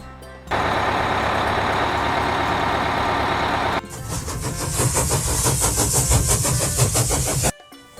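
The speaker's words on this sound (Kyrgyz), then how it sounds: "Автобус." A bus engine runs loud and close, first as a steady low rumble, then a rougher, faster-pulsing drone before it cuts off abruptly.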